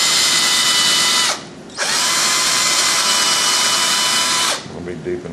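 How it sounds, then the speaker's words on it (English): A small power drill whines steadily at high speed boring into a wooden sign, pauses briefly, then runs again for several seconds before stopping; close and loud. "I'm starting off with a small drill, and I'm going to drill this down into this sign"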